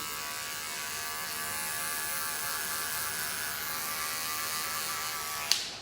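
Andis electric grooming clippers trimming a dog's rear give off a steady, close buzzing whir that holds evenly throughout, with a brief click just before it stops.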